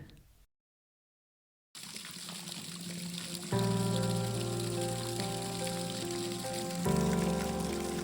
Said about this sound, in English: I heard the sound of water. The hose pipe had been left on